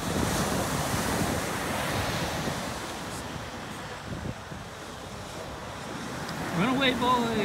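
Ocean waves break and wash up on a family beach in steady, broad surf noise mixed with wind buffeting the microphone, with a louder surge near the end.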